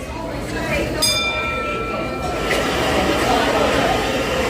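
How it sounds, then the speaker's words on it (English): A bell rings once, bright and clear, to start a carousel ride on a holiday railroad outing, ringing out over steady crowd and ride noise while people talk nearby. "When you hear the bell, the ride will begin."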